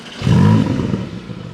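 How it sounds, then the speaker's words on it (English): A Porsche 718 Cayman GTS 4.0 engine fires up nearby, a short loud starter catch and roar that settles into a steady rumbling idle. "can we please turn the engine on and let's hear it?"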